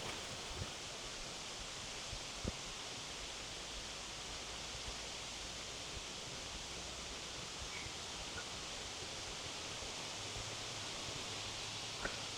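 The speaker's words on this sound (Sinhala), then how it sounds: "මේ සිසිර මේ සුළඟ බලන්නකො" A breeze stirs the leaves of a bodhi tree at an old temple, giving a soft, continuous, even rustle with no distinct gusts, faint and steady for the whole stretch.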